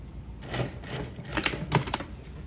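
A sewing machine stitching across the bottom of an exposed zipper, short bursts of rapid mechanical clatter with brief pauses between them, close and moderately quiet.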